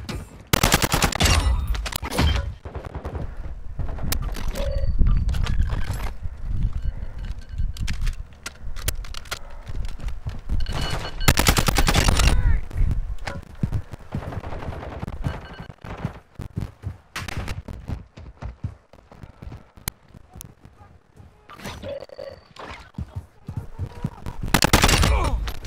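Light machine gun fire in a shooter video game, with several loud rapid bursts spread across the stretch, separated by quieter gaps of game noise and movement.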